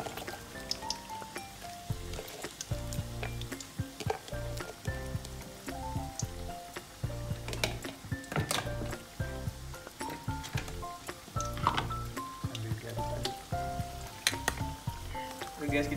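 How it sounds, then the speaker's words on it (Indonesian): Green beans and cabbage stir-fry in a hot pan at home, giving a continuous crackling sizzle with scattered sharp pops and occasional scraping clinks from stirring. "Kemudian kita masukin buat buncis. Sama kubisnya ya guys."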